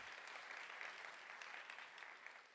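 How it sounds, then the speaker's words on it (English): A seated audience at a panel event on safe spaces applauds steadily, the clapping sounding distant and soft in a hall and holding an even level throughout. "Yes, round of applause."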